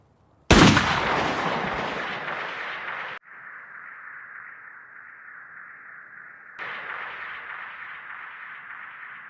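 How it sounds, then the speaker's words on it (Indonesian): A single loud gunshot blasts out in the film The Book of Eli, followed by a sustained high ringing tone that cuts out briefly and then returns. "Eli pun ditembak olehnya."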